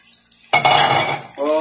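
Raw chicken dropped into a hot pan for Hakka noodles, with a sudden loud burst of sizzling and metallic clatter of a utensil against the pan, continuing alone for about a second.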